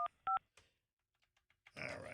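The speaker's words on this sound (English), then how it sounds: "Hang on, let me dial up Susie." A phone number being dialed on a telephone keypad, with two short tonal beeps up front, then a few faint clicks and a louder noisy burst at the end; no talking.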